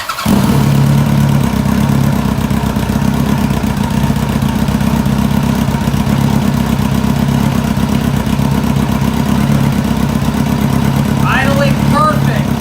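A Kawasaki motorcycle engine starts abruptly without choke or starting fluid and runs loudly and steadily at close range, a rough continuous rumble with a person's voice briefly heard near the end.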